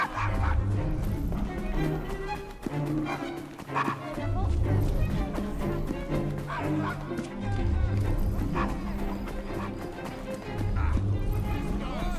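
A dog barks inside the Victorian London street world of Assassin's Creed Syndicate. Yips and barks come up amid dense game audio, horse hooves and speech.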